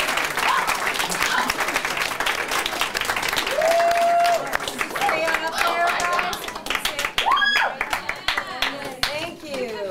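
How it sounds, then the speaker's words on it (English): At a high school poetry slam an audience claps for the alternates, a loud, sustained wash of clapping hands with cheers and whoops over it, and voices mixed in. "Let's give them a round of applause."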